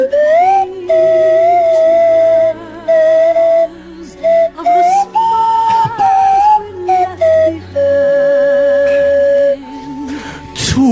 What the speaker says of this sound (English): Every time you go for the slide whistle, you're not sure which way it's gonna.